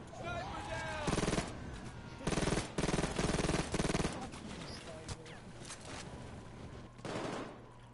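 Rapid bursts of SMG fire in the PayDay heist game, several sharp automatic volleys separated by short pauses, loud and close, with other game sounds between.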